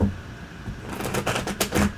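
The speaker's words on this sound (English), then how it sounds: "Am I shuffling first?" Deck of tarot cards being shuffled at a table: a brief burst of quick, crisp riffling clicks lasting about a second, faint and close, with no talk over it.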